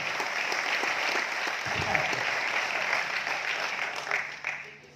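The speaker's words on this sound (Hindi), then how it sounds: "ताली बजा लीजिए सर, ये बात है।" Indoor audience clapping steadily and loudly, a dense continuous wash of applause that tapers off near the end, with a brief voice underneath.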